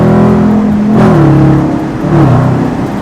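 A car accelerates hard in Sport Plus mode with a throttle response controller fitted, the engine note loud and close, rising twice in strong revving surges with a continuous whir.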